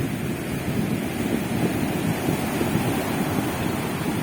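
Large ocean waves crash and break steadily on the shore, a continuous loud roar of surf with wind noise buffeting the microphone and no voices.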